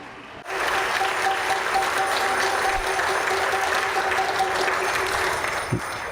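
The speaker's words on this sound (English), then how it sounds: "So let us all give him a big clap of hands." A conference audience at a muscular dystrophy meeting breaks into applause, a sudden onset of dense, steady clapping from a large crowd that carries on evenly for several seconds in a large hall.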